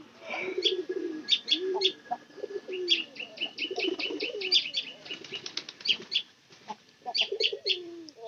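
Large pigeons coo in low repeated phrases while wings flap in sharp bursts and smaller birds chirp nearby, a busy close loft chorus with no talking.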